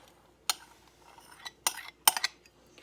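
A spoon clinking and scraping in a bowl as apple pieces are stirred into a sugar mixture, several sharp, close contacts in an irregular rhythm with quiet gaps between them.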